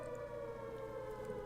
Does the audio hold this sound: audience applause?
no